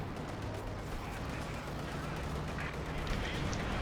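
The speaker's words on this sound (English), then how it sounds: "Artillery is starting to shell this." Artillery shells pound a battlefield in Company of Heroes 2, with dense rumbling booms and scattered gunfire layered over a constant low roar, steady and loud throughout.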